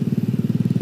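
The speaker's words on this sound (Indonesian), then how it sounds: "Motornya di apa namanya, dikasih knalpot brong ini." A motorcycle fitted with a loud aftermarket knalpot brong exhaust roars close by with a rapid, throbbing pulse, heard on a road trip from Malang toward Kepanjen.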